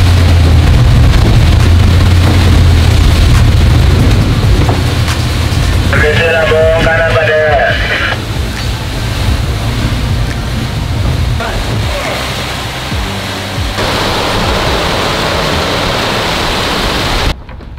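Steady rushing water and wind noise as a sailboat cuts quickly through ocean swell, with a brief tonal whine partway through and speech faintly mixed in.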